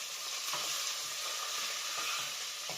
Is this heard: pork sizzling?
yes